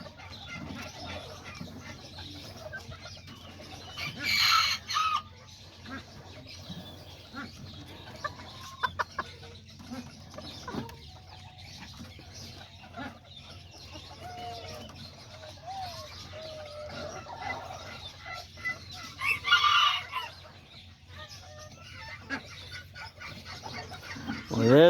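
Small kikiriki chickens cluck softly in a pen, with scattered quiet calls and two louder, sharper bursts, one early and one later, over a calm, low background.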